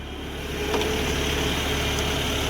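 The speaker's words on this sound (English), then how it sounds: "The engine, as I've said earlier, is a 3-liter twin power turbo straight 6, good for 300 horsepower." A 2009 BMW Z4 sDrive35i with a 3-liter twin-turbo straight-six idles close by. It gives a steady, even hum with a low rumble that never changes, and nothing else is heard over it.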